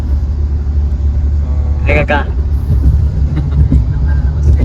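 Inside a moving car with a driver at the wheel, a constant low engine and road rumble fills the cabin while a person speaks briefly over it.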